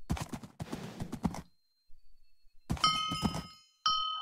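Horse hooves clip-clop in quick hollow knocks in a parkour video game, two bursts separated by silence, with ringing chime tones sounding over the second burst.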